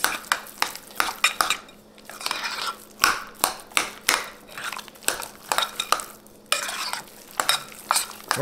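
A spoon stirs a keto lasagna meat mixture with crushed red peppers in a pan, with repeated scraping, clinking strokes against the cookware in a steady rhythm over a faint sizzle, close and fairly loud.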